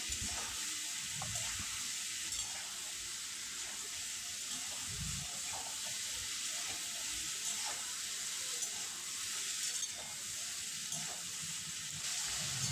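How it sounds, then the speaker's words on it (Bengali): Ridge gourd with turmeric, salt and sugar sautéing in a pan, a steady soft sizzle and watery hiss running evenly throughout with no talk. "এবারে কিছুক্ষণ কষে নেব।"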